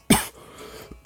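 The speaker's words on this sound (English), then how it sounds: "y'all got to bypass the little coughing from now and then" A person who is a little sick coughs twice, a short harsh cough near the start and another at the end, loud and close, with a quiet stretch of breathing between.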